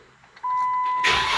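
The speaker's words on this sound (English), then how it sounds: "Let me see if I can start the Jeep." A Jeep's engine cranks and fires up on a dual battery setup: a steady tone and hum build for a moment, then the engine catches with a loud burst and keeps running.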